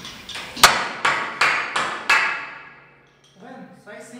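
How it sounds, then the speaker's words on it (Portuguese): A hammer strikes wooden pallet boards being knocked apart beside a decanter, five or six loud, evenly spaced ringing blows, followed by a few softer knocks and faint scraping. "Estou tirando aqui com jeitinho para não bater o martelo no decantador"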